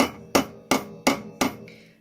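Cross-peen hammer striking metal while an ear wire is formed: five sharp, ringing blows at a steady pace, close and loud, each decaying quickly before the next.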